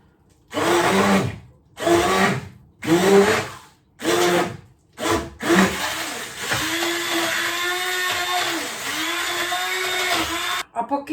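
A blender whirs through sausage meat in several short bursts separated by pauses, then runs continuously for a longer stretch before stopping abruptly.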